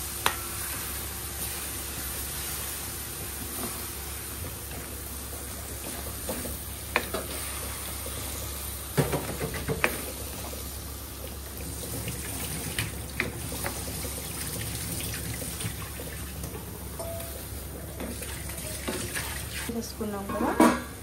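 Spice paste frying in a pan with tamarind, a steady soft sizzle with occasional scraping clicks of a spoon stirring, fairly close and continuous.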